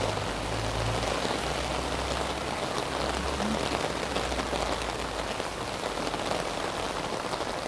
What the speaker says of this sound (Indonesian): Hujan deras. Raining so heavy.